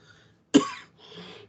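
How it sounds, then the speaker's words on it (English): A single sharp, close cough from a man, followed by a softer, raspy exhale. "I've had this cough for a while now"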